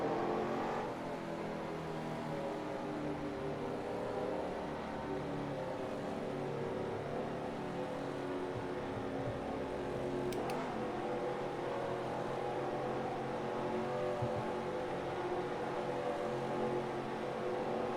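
Race cars in a racing video game roar as the field takes the green flag, a dense, steady engine drone with layered revving and a brief passing whoosh, loud and continuous with no talk.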